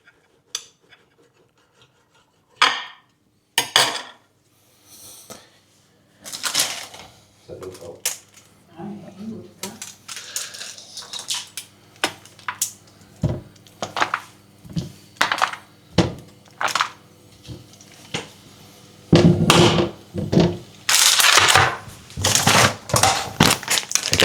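Toast slices being cut in half with a knife during kitchen meal prep, heard as repeated short rasping saw-like strokes in uneven bursts, close and fairly loud, with some talking mixed in.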